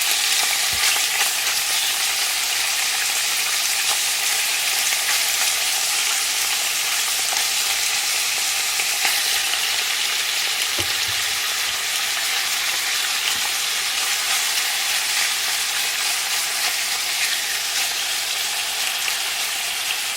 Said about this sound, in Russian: пока мясо вот это у нас обжаривается